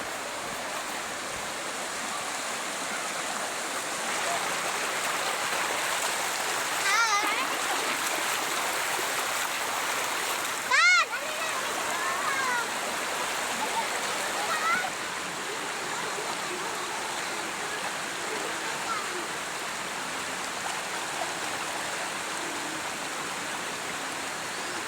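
A countryside river flowing in a steady, continuous rush of water, close and fairly loud throughout, with a brief sharper splash partway through and no talking.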